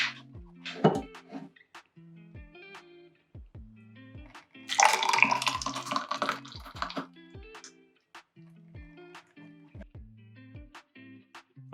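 Hot chocolate pours briefly into a glass with a splashy gurgle, set against soft background music with plucked notes.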